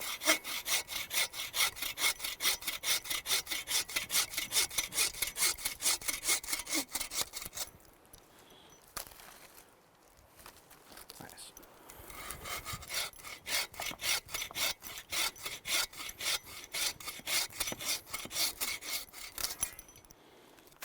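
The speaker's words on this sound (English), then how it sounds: "Yeah, and then we're just cutting it into rounds." A hand saw cuts through firewood sticks into rounds outdoors, with rapid, loud, regular back-and-forth strokes, a pause of a few seconds midway, then steady sawing resumes until the end.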